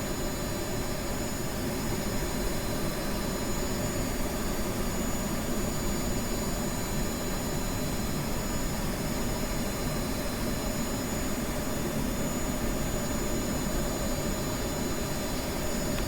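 Steady, loud jet engine roar of an F-15 Eagle in Kerbal Space Program, a continuous broadband whine and rumble holding evenly throughout with no talk over it.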